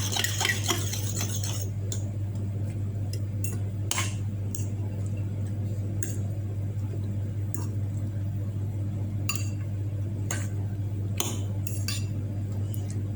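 A spoon stirring spaghetti sauce ingredients with black pepper in a pan, brief clinks and scrapes against the metal at irregular intervals over a steady low hum, with no one talking.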